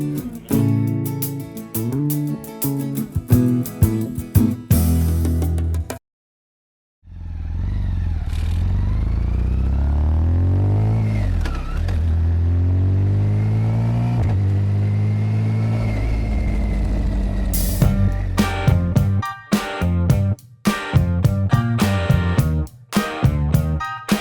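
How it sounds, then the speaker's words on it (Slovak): A motorcycle riding around Lake Garda roars loud and close, revving and accelerating through gear changes, with a brief cut to silence before a long, steady engine drone and more revving near the end. "sadáme na motorku a dáme si cestu okolo Lago di Garda"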